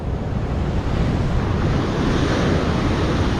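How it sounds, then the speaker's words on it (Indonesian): Ocean waves at Seruni beach in Donorojo, Pacitan, a loud, unbroken roar of surf mixed with heavy wind buffeting the microphone, with no voices. "ini ombaknya lumayan juga ini"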